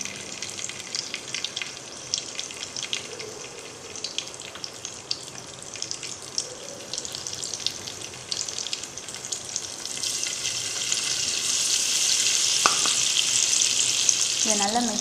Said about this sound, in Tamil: எண்ணெயும் நல்லா சூடாகிடுச்சு. இப்போ நம்ம பன்னீர் எடுத்து ஒரு பீஸாக வச்சுக்கலாம்.